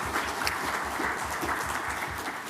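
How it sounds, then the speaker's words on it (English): A crowd claps steadily, a dense, even wash of applause from many hands filling the room without a pause. "Give them a round of applause again for me"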